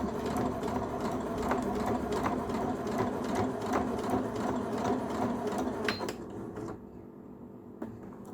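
Sewing machine stitching fabric for a doll body, run by hand without the foot pedal, a steady close mechanical chatter that winds down near the end.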